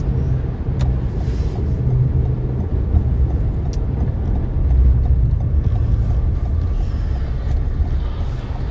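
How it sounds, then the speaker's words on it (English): Heavy truck rumbling past a car pulled over on a snowy road in a winter storm in Japan, a steady low engine drone with slushy tire noise, close and continuous throughout. "I got a truck right up my butt, so I'm going to pull over and let him pass."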